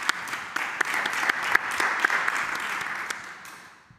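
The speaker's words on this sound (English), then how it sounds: "Give him a round of applause." A panel audience applauds to welcome artist and filmmaker Renzo Martens, co-founder of the Art Institute Human Activities, with a brisk wash of clapping and a few sharp individual claps that dies away after about three seconds.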